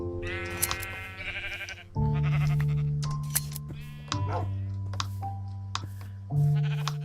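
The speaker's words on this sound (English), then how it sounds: "Typical jungle creatures, sheep." Several sheep in the Minecraft video game bleat in a jungle setting, long tonal calls coming back to back and fairly loud, with some overlapping, over a faint game music or ambient bed.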